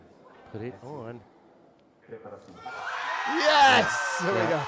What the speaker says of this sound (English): Big cheer for the French She's team